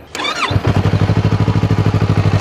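A Yamaha R3 motorcycle engine cranks with a short whirring starter burst, then catches and settles into a steady, pulsing idle, close and loud.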